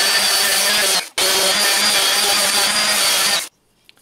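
A random orbital sander buzzes loudly and close up while smoothing the edges of a template on a deer-head mount, running steadily with a brief cut-out near the start before stopping.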